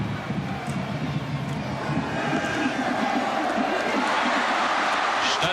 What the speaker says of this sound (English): the crowd is subdued a little bit